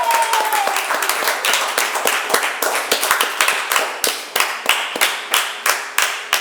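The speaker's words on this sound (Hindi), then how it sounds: "ऑडियंस से कहूंगा शिवानी ठाकुर के लिए जोरदार तालियां" A studio audience on a TV quiz show claps loudly for contestant Shivani Thakur, close and rhythmic, with the claps falling into a fairly regular synchronized beat.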